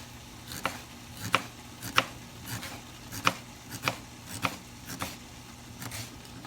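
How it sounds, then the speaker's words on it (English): A kitchen knife slicing tomatoes thinly on a cutting board, about ten evenly spaced soft cuts with a light tap on each stroke, close and without talk. "I like to cut it in half, and then I'll cut it across"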